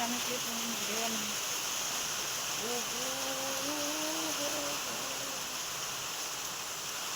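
Heavy rain pours down in a steady, hissing wash, while someone talks over it in the foreground.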